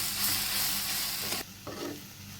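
Steady, loud sizzling of bitter gourd being stir-fried in a hot pan, with scraping and tossing noises partway through; no voices.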